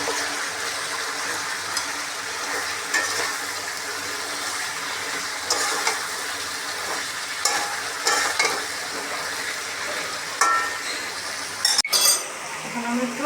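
Eggplant and potato frying in a spiced masala, stirred with a utensil that scrapes and clinks against the pan, a steady sizzle running underneath with scattered louder clanks near the end.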